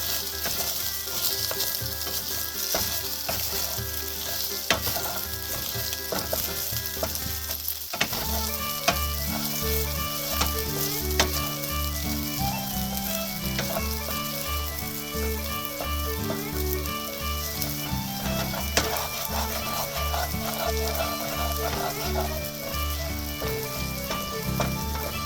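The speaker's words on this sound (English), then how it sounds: "You'll sauté the rice in the garlic brown butter." Short-grain Japanese white rice sautés in garlic brown butter, a loud steady sizzle with stirring scrapes and bright clicks of a utensil against the pan, close up and continuous.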